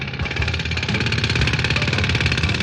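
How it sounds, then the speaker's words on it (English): A loud, continuous rapid hammering of a big drill, steady and close, running the whole time with no voices. "To hear a great, big drill."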